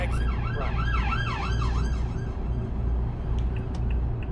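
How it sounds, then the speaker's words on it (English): A police car siren wails outside as it passes, rising and falling repeatedly and loud for the first couple of seconds, then fading under steady low traffic noise as someone says a word. "Apologies for the police car that's going to go flying past outside."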